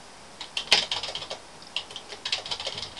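Typing on a computer keyboard while working in Microsoft Word, with quick, close key clicks in short bursts and brief pauses, alone and with no talk.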